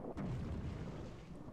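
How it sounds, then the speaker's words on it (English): An armed torpedo blows up in the Indiana Jones and the Infernal Machine video game, a single deep booming blast that rumbles and fades over about a second and a half. "What an explosion."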